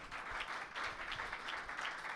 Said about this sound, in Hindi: यीशु मसीह के लिए तालियां बजाएं